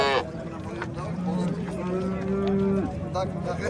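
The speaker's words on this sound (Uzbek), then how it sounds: "Sigirlar ham ko'p, buqalar ham ko'p bugun." Cows and bulls low at a busy livestock market in Samarkand's Okdaryo district, a sustained moo rising and holding for about two seconds over crowd murmur and nearby talk.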